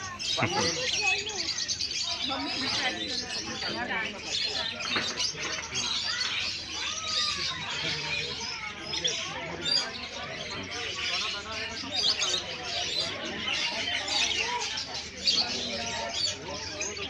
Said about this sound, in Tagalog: Mga parot.